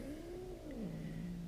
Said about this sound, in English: And the cats are fighting still.